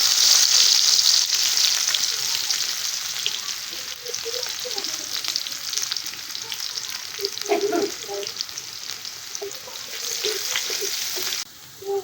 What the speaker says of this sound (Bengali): আর পেঁয়াজ আর রসুনটা লাল লাল ভাজা হয়ে গেছে।